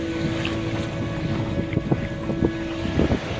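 A boat motor drones steadily on open water, a constant mid-pitched hum mixed with gusty wind buffeting the microphone and a few light knocks.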